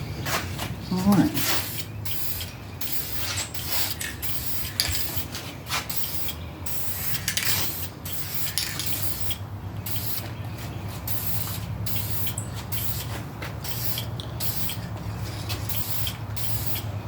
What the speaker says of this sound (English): So I'm going to spray these, and we'll see how they turn out.